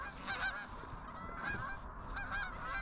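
A flock of geese honking while landing in a fresh-cut corn field, overlapping calls in repeated bursts, fairly faint and distant over outdoor wind noise.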